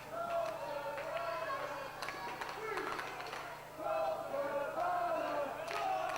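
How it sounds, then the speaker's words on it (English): Wrestling fans cheering at a live independent show, a steady crowd roar with scattered shouts and claps, moderately distant, with a commentator's voice talking over it throughout. "You hear some fans cheering Johnny Storm, some fans cheering for Colt Cabana."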